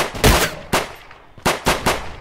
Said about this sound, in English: Took four shots with a shotgun.